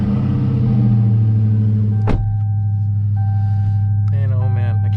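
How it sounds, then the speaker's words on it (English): A Dodge Charger Hellcat Daytona's engine rumbles loudly at close range in a deep, steady idle, with a sharp transient partway through. Faint mechanical whirring follows. "Let's go ahead and start it up."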